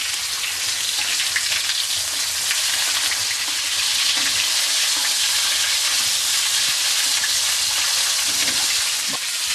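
Turkey meat browning in rendered fat, a steady loud hiss and crackle of frying with scattered pops, heard alone.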